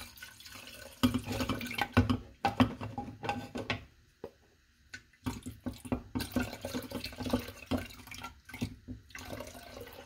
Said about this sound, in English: we're going to just pour our black soap inside of the water.